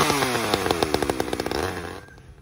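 A STIHL two-stroke chainsaw engine idles with a rapid, buzzy, uneven putter, close and loud, then tapers off toward the end.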